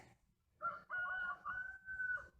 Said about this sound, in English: Those are our buff lace Brahmas.